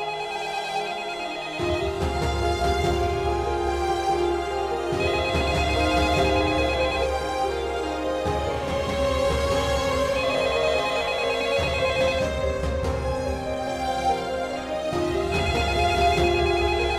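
A telephone rings repeatedly in a tense drama scene, with a steady electronic ring pattern repeating over background music, loud and continuous throughout.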